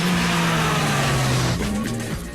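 An Austin-Healey race car on a hill climb course roars past close by, engine note holding a high steady whine then dropping as it shifts and pulls away, with no talking.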